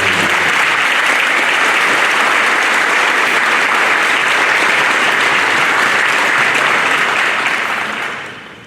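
Loud, sustained applause from a large crowd honoring graduating seniors at a school awards night, a thick wash of clapping that holds steady for about eight seconds before tapering off.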